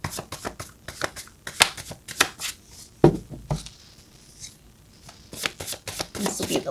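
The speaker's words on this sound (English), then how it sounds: "This will be the last shuffle for this deck." Close riffle shuffles of a deck of cards make quick, crisp flurries of rapid flicks, with short pauses between the bursts. A voice speaks faintly in the background.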